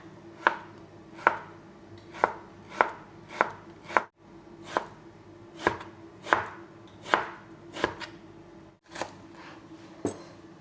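Steady knife strokes thinly slicing soft food on a cutting board, about a dozen crisp chops in an even rhythm, close and clear with no talking.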